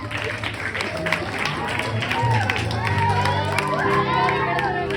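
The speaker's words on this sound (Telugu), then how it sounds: "చప్పట్లతో ఆహ్వానించాలి" An audience at a VBS skit show claps and cheers to welcome a judge, amid a busy murmur of voices, with people talking and calling out over the applause.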